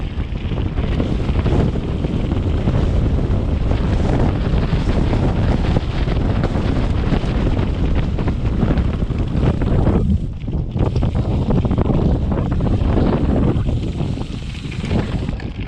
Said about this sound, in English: Wow, that was windy.